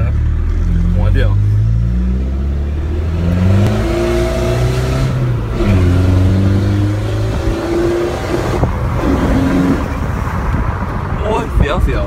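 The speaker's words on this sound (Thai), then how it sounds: "ลองดีแม็กตัวยูโร2นะครับหัวเดียว" An Isuzu D-Max 2.5 Euro 2 pickup with manual gearbox, engine revving and accelerating through gears, its pitch climbing and dropping with each shift, loud and close from inside the cab, with people talking over it.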